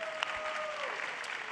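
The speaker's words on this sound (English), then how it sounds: "round of applause for the supports out there" A brief burst of audience applause at a live esports finals event for League of Legends support players, steady dense clapping throughout with a faint voice briefly over it.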